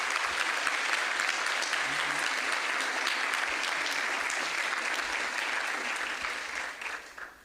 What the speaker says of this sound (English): So give those students a round of applause.